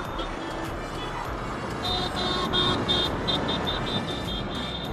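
Heavy road traffic in Aligarh, India, with engines droning and a cluster of repeated horn beeps from nearby vehicles over a constant rumble, voices faintly present beneath.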